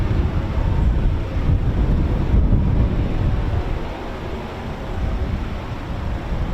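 Blustery wind buffets the microphone at an RAF Coningsby viewing spot, a loud, continuous low rumble of gusts that swells and eases throughout.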